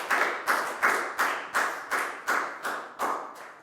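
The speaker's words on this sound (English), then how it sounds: "High five and a big round of applause for Bang on" A Year 4 English class claps in unison, with about ten sharp, evenly spaced claps in a steady rhythm, each one fading quickly before the next.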